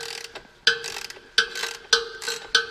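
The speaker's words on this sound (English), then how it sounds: "Now all we need to do is turn this bolt, which is a 9/16, and hopefully it'll push the whole thing out." A ratchet turns a 9/16 bolt to press out a shift shaft seal on a 1968-1981 C3 Corvette TH350 automatic transmission, giving four or five close, crisp clicking strokes at a steady rhythm.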